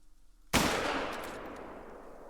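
A single .270 rifle shot in the hunting video game Call of the Wild, one sharp loud crack followed by a long rolling echo that fades over about two seconds.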